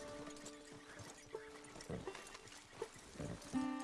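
A horse walking slowly up a hill in Red Dead Redemption 2, with soft hollow hoof clops in an uneven pace alongside ambient tones, fairly quiet, ending in a brief louder snort-like rise.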